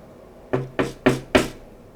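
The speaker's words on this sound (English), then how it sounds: "he hears a knock" Four firm knocks land on a door in an even rhythm, close and clear against a quiet background with no talk.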